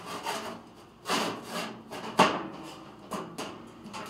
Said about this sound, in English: Take your door, slide it through there